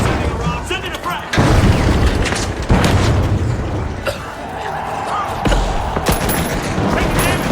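A frag grenade detonates in a first-person shooter match, giving heavy booms with broadband bursts at several points amid continuous gunfire and game noise, with player voices calling out over the action.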